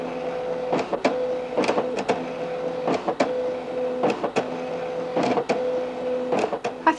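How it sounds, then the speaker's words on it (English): A desktop computer printer with a sheet feeder runs a page through, giving repeated short mechanical whirs and clicks in an irregular rhythm over a steady motor hum, close and fairly loud with no talking. "So I now just need to click onto print and wait for it to happen."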